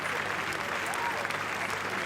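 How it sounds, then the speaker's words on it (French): Crowd applause at the Cannes Film Festival's 70th anniversary red-carpet steps, a dense continuous clapping from many hands, steady and fairly close for the whole stretch. "Bérénice Bejo qui les applaudit aussi"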